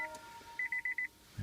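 A Nissan Leaf dashboard chime sounds a single beep and then a quick run of four evenly spaced electronic beeps inside the quiet cabin.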